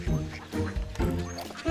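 Ducks quacking nearby in a quick series of loud, nasal calls that overlap one another.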